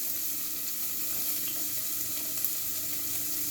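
Onion sautes in warm olive oil, giving a soft, steady sizzling hiss that stays faint and even throughout, with no talking.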